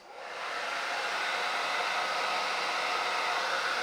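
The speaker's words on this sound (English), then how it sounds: "How about a hair dryer? On low," A hair dryer on its low setting, drawing about 700 watts from a Ugreen PowerRoam 1200 power station, whooshes on with a steady airy roar, holding an even, continuous blowing noise close by with no other sounds.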